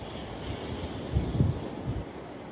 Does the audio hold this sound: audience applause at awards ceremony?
no